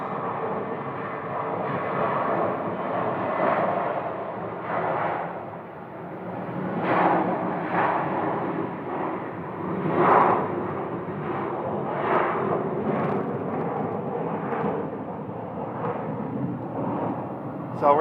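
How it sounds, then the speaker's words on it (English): A Delta Boeing 737 departing on runway 25 right, its jet engines a broad, rumbling roar heard from a distance, swelling and pulsing steadily throughout. "Delta Flight 1470 headed up to Seattle today. A Boeing 737."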